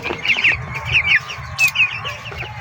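Young chickens about ten days old, just past the brooding stage, clucking and peeping in a busy overlapping chorus close by, with no talking.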